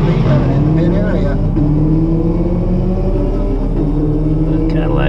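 A Cadillac and a Camaro run side by side down a drag strip at Gainesville Raceway, a loud sustained engine roar with rising and falling tones, heard under an announcer's voice.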